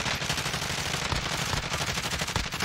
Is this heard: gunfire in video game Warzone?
yes